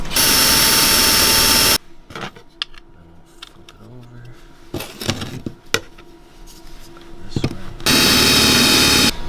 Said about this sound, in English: take these brackets back out of the airframe so that we can drill the nut plates in